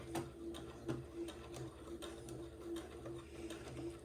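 A sewing machine tacking forward and backward while stitching gathered lace and entredeux for a baby layette, with quiet rhythmic ticking needle strokes and a faint whirring motor, heard close without talk.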